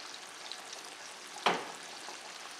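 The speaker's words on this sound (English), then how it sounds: "I just cranked up the heat so we're getting that sizzle." Cherry tomatoes, onion and garlic fry in olive oil over high heat, giving a steady, even sizzle with one brief louder crackle partway through, with no voices.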